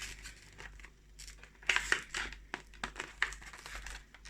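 Scissors snip at plastic toy packaging amid soft crinkling and rustling, with a few sharper crackles and cuts over a quiet background.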